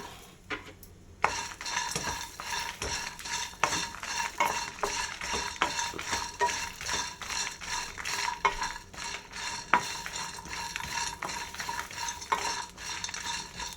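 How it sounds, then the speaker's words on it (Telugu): Ginger frying with roasted whole spices for an Andhra-style mutton curry, a dense close sizzle with busy continuous scraping and stirring of a spoon against the pan, brief quiet start, no voices. "అల్లం కూడా కొంచెం వేయించుకుందాం"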